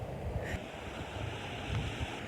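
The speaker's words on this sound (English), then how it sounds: "here's a beautiful view of the ocean crashing against the rocks" Ocean waves crash against volcanic rocks on the Lanzarote coast, a steady roar of surf mixed with wind buffeting the microphone, with a brief splash near the start and no voices.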